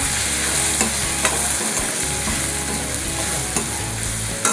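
Red chili powder spice mix sautéed in a pan for a dried Bombay duck chutney, a loud continuous sizzle with repeated scraping and stirring strokes of a spoon, no voices.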